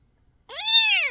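A black kitten lets out a single loud, close meow, rising then falling and drawn out, after a moment of near silence.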